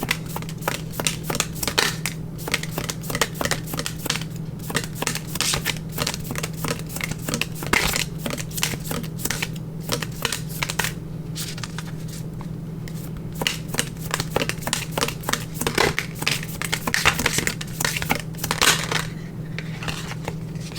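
Oracle card deck being shuffled over and over in a tarot and oracle reading, a steady run of soft, close papery riffles and flicks with a constant low hum underneath and no talking.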